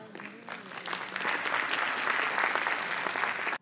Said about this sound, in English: Let's give a huge round of applause for our guest of honor.